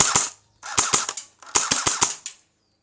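An HK G36 airsoft rifle fires three quick bursts of sharp, snappy shots, each burst a few rapid cracks, loud and close with short silences between and no talk.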